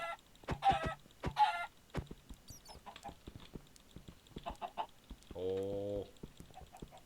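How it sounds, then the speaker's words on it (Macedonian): Chickens in the video game Minecraft give sharp clucks and short squawks in separate bursts, with one longer drawn-out cackle near the end, clear against otherwise quiet game sound. "Кај се тие кокошките да ги утапам?"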